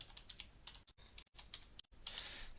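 Quick bursts of keystrokes on a computer keyboard, tapping quietly and close with brief pauses between runs, entering text in a web browser's address bar.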